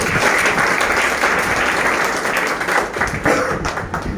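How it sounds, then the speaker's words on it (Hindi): A college audience bursts into strong applause for students and teachers, a loud continuous clatter of many hands that wavers slightly and begins to fade toward the end. "उन सभी के लिए एक बार जोरदार ताली बजाएं"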